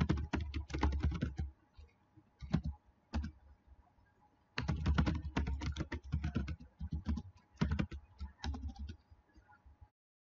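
Commands typed on a computer keyboard, close rapid bursts of key clicks separated by short pauses, crisp and alone.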